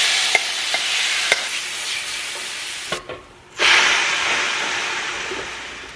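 Protein waffle batter sizzling and hissing in a hot waffle maker, a steady close hiss with a brief drop as the lid shifts, then a fresh, louder burst of sizzle, with no voices.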